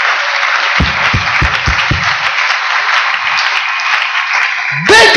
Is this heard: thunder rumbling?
no